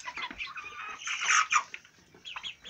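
Young hens and chickens cluck and chatter in short, uneven bursts, several birds close by, some calls louder and rising, with no talking.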